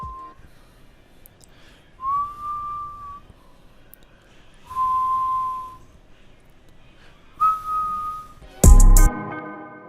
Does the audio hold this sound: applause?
no